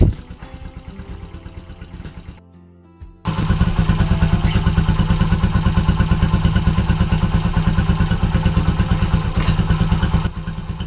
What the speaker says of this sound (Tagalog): Kung usapang lagatik naman, ito yung tunog niya at kayo na yung humusga kung nawala nga ba yung lagatik.